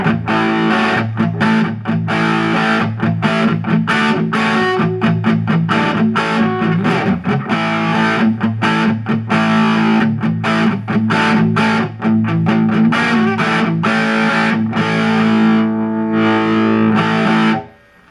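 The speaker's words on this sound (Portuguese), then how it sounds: "Pôr a distorção no talo e deixar a mesma regulagem do tone." Electric guitar through an Ashland DT distortion pedal with the distortion at maximum, a loud, thick, saturated riff of rapid choppy chords running continuously before stopping abruptly at the end.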